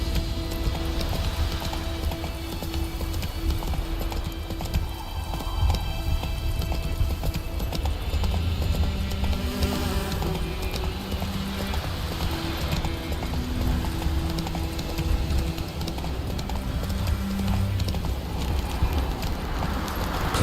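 Hooves of a horse galloping in the video game The Witcher 3 pound out a fast, steady clip-clop rhythm throughout, close and loud over game ambience and music.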